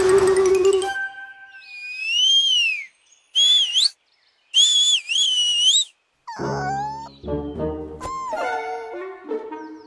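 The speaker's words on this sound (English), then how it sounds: "Scampi likes to whistle while he works." Playful cartoon-style whistles rise and bend in short, bright phrases with gaps between them, followed by busier chirpy melodic sounds.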